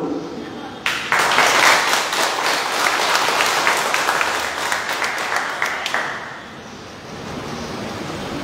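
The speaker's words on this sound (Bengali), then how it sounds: "তাই আমি সবার কাছে একটা জোরে করতালি আশা করব" An audience claps loudly at a political rally, a dense burst of applause that starts abruptly, holds for several seconds and then fades into crowd murmur.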